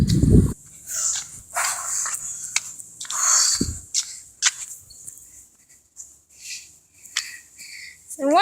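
Dogs bark, yip and whimper outdoors in scattered bursts, some close and some farther off, mixed with rustling movement and a few human voices.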